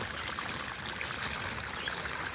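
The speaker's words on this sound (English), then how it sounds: "And we got our sluice rolling, and look at our bubble stream." Water rushes steadily through a gold mining sluice box, a dense close hiss and trickle with no pauses and no voices.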